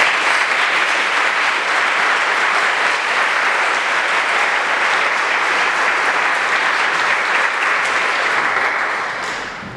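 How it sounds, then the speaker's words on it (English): A gathered crowd at a student society's tapping ceremony gives a round of applause for the new class of 2018, a loud, even roar of clapping lasting nearly ten seconds and easing off slightly at the end. "Would you please join me in a round of applause for them?"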